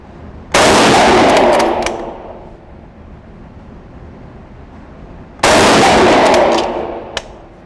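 Two loud, sharp rifle shots from a Longbranch Enfield No4 Mk1 chambered in .303 British, about five seconds apart, each followed by a ringing decay and faint metallic clicks of the sticky bolt being worked.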